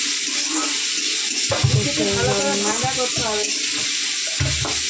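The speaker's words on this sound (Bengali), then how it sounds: "দেখো উচ্ছেটা ভাজা হোক।" Bitter gourd fries in a pan with a constant close hiss and crackle, while a voice talks briefly over the sizzling in the middle.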